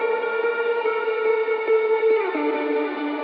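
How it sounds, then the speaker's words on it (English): An electric guitar lead in a beat plays sustained, effects-drenched notes with echo and chorus, staying moderately loud with a slide in pitch near the end. "I added this kind of guitar lead right here."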